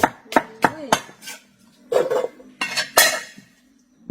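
A knife dicing fruit into cubes for a Thai fruit salad, sharp repeated chops and clinks against a board or dish, irregular in rhythm and close up, with brief pauses between bursts.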